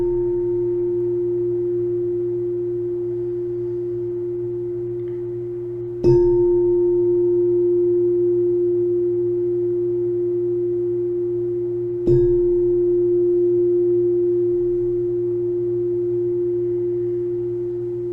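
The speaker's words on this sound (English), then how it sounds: "Listening for the sound of the bell as a transition in practice" Meditation bell struck twice about six seconds apart, each ring a clear sustained tone that hums on and slowly fades in a quiet setting, no voices.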